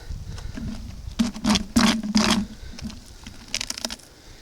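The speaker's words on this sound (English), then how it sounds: "with lovely freezing rain stuff." Freezing rain at about -2 °C pattering outdoors during maple syrup making, a steady close crackling patter with a few louder bursts of clustered taps, no voices.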